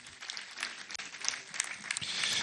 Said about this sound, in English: Please do give him another round of applause.